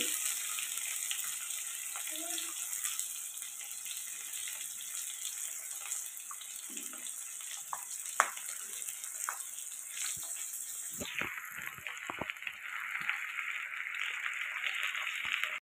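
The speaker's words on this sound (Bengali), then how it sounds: "পেঁয়াজটা দিয়ে ভালো করে ভাজা ভাজা করে নিতে হবে।" Constant crackling sizzle of onions frying in mustard oil, with occasional sharp clinks of a spoon against the pan toward the end.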